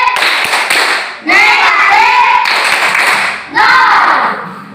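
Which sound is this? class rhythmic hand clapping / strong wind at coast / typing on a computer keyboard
class rhythmic hand clapping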